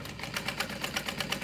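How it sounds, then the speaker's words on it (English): Sewing machine chain-stitching pouch pieces together assembly-line style for a beachcomber pouch, a steady fast mechanical whir with rhythmic stitch pulses, moderately near and fairly quiet with no talk. "So sewing them together like this"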